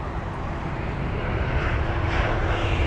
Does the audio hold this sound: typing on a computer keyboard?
no